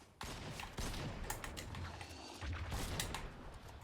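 Gunfire in a blitz battle royale video game comes as rapid bursts of sharp shots, fairly quiet in the mix, over a constant busy game background.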